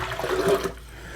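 Vinegar pours from a measuring cup into a pot for a spicy pickled red onion brine, a close, steady liquid gush lasting under a second before cutting off to near quiet.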